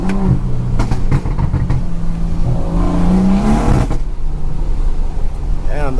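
Straight-piped BMW 340i exhaust revving hard, a loud, raspy engine note climbing and falling through repeated revs with crackles, close and continuous, with voices talking over it.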